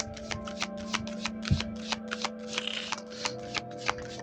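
Tarot cards are shuffled by hand in a quiet room, a soft, steady run of riffling flicks repeating roughly every third of a second over a low constant hum.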